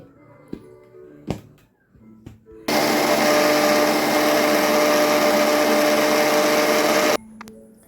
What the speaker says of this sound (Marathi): आणि हे मी मिक्सरला आता चालवते